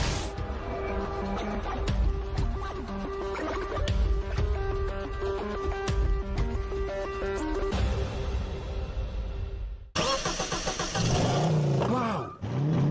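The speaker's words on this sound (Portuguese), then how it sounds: "Motor V8 265. É tudo original." An all-original V8 265 car engine revs hard near the end, its loud rising and falling roar bursting in after a long stretch of steady, music-like tones.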